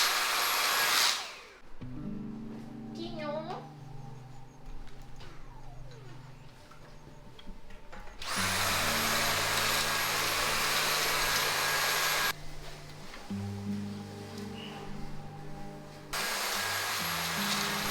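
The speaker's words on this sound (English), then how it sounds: "satisfying to see all of that dirt trapped in the vacuum cleaner" A vacuum cleaner drones steadily across a bedroom floor in long runs, cutting out briefly and restarting a few times, with its whine changing as the nozzle moves.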